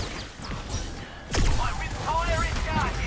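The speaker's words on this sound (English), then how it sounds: "Now, I can just get 3 shots off here." Illari, a hero in the Overwatch video game, fires a few shots amid busy in-game audio; one sharp, loud blast stands out midway, with lighter shots before it.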